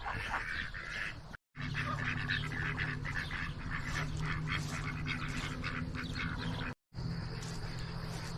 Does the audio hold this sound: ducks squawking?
yes